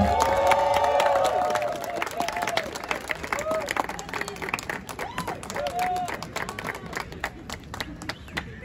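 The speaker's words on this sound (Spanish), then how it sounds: "Un aplauso." An audience at a concert claps and cheers, starting loud with shouts and whoops and then settling into steady, dense clapping that carries on to the end.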